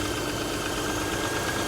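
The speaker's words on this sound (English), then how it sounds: "I think the engine's working. The engine in the Freelander is working." A 2005 Land Rover Freelander engine idles with a steady, loud, even rumble and a faint knocking undertone, constant and close with no change in pitch or rhythm.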